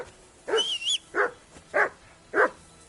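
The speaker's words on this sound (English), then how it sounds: "Whistle at that mutt of yours to stop barking!" Dog barking in the medieval role-playing game Kingdom Come Deliverance II: four loud, sharp barks spaced about half a second apart, the first slightly drawn out with a whiny edge, heard alone without talk.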